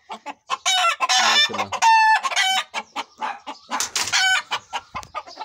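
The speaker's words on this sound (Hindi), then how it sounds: "ये देखो मुर्गी वगैरह काफ़ी अच्छी है" Chickens in a village coop cluck and a rooster crows, loud and close, in repeated bursts with short pauses between calls and a brief spoken word.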